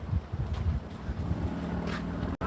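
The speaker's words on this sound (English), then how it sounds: "It's pretty windy out." Gusts of wind buffet the microphone outdoors in Florida with a steady rushing roar. The wind thumps low and unevenly, and there is a brief dropout near the end.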